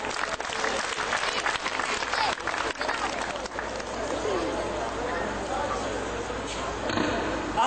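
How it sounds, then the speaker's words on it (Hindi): Sustained audience clapping at a school academy event as a sixth-grade student is called up to tell jokes, a dense, steady applause that stays loud throughout, with faint voices mixed in. "तालियां होनी।"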